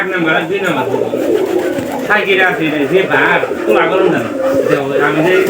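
Pigeons released into a net coo in low, rolling calls close by, continuous across the stretch, under someone talking.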